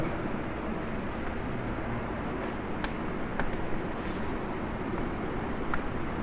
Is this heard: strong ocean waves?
no